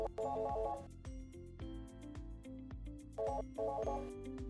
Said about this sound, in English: You'll see that call's still ringing on my phone